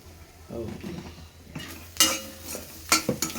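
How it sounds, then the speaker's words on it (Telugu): A spoon stirs chaat masala into a pan of cheese corn, scraping softly and then clinking sharply against the cookware several times, close by with a faint sizzle underneath. "చాట్ మసాలా ఒక స్పూన్ చాట్ మసాలా వేసి కలపాలి"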